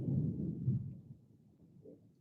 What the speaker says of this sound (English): Hear that thunder? Unbelievable.